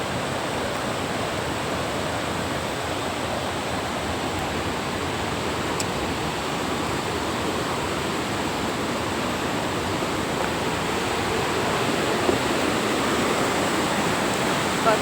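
A turbulent, flooded river in North Bengal rushes at dusk, making a steady, loud broadband roar of churning water that continues unbroken throughout.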